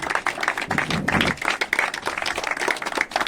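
Sustained, fairly loud applause from an audience at a school alumni reunion in Bhabor, Doda, with many hands clapping in a continuous dense patter and faint voices mixed underneath.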